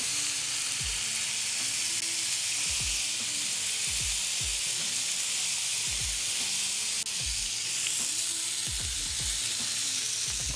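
Large smash burger patties sizzle loudly on a Blackstone griddle, a constant bright hiss of frying fat, while a spatula presses and scrapes the edges down with periodic dull thumps and scrapes.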